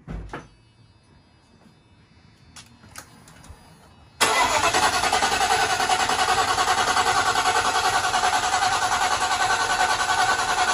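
Quiet clicks and shuffling, then a Mercedes R129 SL500 engine with new injectors abruptly catches and runs loud with a rough, uneven pulsing roar that continues steadily.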